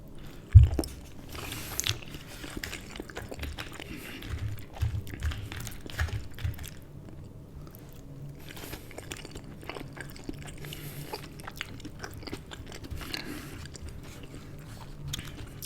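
Close, quiet eating of macaroni from a Hawaiian BBQ plate, with soft bites and moist chewing repeating in an uneven rhythm across the whole stretch, and no talking.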